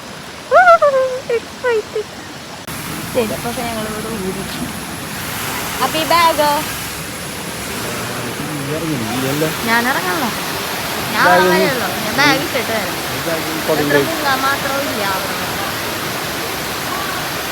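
Vattai waterfall near Thrissur rushes with strong force as a steady, loud roar of falling water that fills the whole scene, while a person talks over it and other voices come and go.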